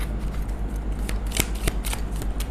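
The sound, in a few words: shuffling tarot cards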